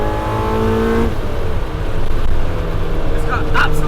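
Honda CRX with a swapped K24 engine, heard from the cabin as it accelerates, first with a steady tone and then rising in pitch, with some speech over the engine.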